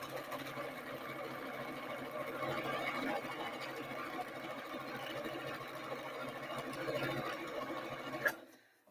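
A sewing machine runs a zigzag stitch with a steady, continuous mechanical whir and chatter for about eight seconds. It stops with a sharp click near the end.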